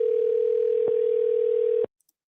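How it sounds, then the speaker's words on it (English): A telephone dial tone holds one steady, loud, unbroken pitch for nearly two seconds, then stops abruptly into silence, with a faint click or two afterward. "Let's give them a call. Let's see if they pick up the phone."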